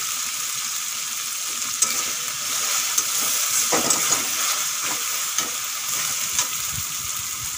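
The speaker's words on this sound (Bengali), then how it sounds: "টমেটো আর পেঁয়াজ ভালো করে ভেজে নিয়েছি। এখন দিয়ে দেব একটা কারি পাতা" Curry leaves go into hot oil with fried tomato and onion, producing a loud, steady sizzle and hiss, with stirring scrapes and spatters cutting through.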